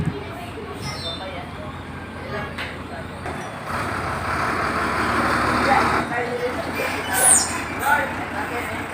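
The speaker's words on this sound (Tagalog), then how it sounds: "Yan po yung isang dump truck na may kargang bakal" A dump truck loaded with steel sheet piles arrives at a construction site in Davao City, a steady rumbling engine with swelling noise and brief high squeals, no talk.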